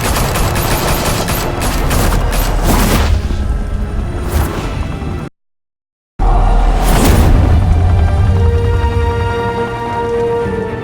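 Rapid sustained gunfire from a shootout in Batman: The Telltale Series, loud bursts of shots and booms over several seconds, a sudden silent gap, then more heavy firing.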